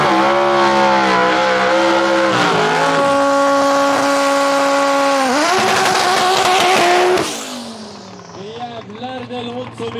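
A Chevrolet Camaro drag racing car in an Outlaw class at Umeå Open 2022 roars at high revs through rising gear shifts, then the engine note drops off as it winds down. The sound is loud and sustained, with an announcer speaking over it.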